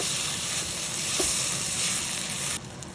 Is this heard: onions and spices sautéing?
yes